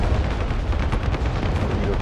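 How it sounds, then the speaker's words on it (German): A bombing run in Broken Arrow rumbles with continuous heavy explosions and artillery-like booms, a dense, low, rolling barrage with no clear gaps. "Und da ziehen wir jetzt mal hier vorne einen Bombing Run."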